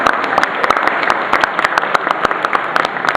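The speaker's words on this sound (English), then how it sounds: "can I have one last round of applause for our contestants" A crowd at a New Zealand cosplay contest gives its contestants a final round of applause. Close, loud, continuous clapping with sharp individual hand claps sounds alone throughout.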